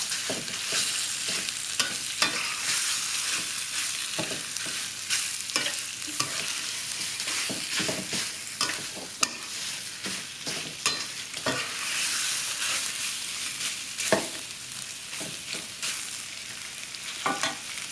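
Pork belly is stir-fried with curry paste in a pan: a steady close sizzle of frying runs throughout, broken by frequent scraping and clanking strokes of a spatula against the pan.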